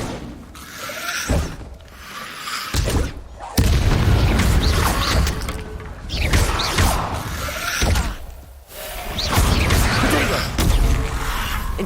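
Incendio fire spells cast repeatedly in Hogwarts Legacy, heard as loud booming magical bursts and mechanical whooshes in quick succession, with brief quieter gaps between casts and a dense, sustained roar through the latter half.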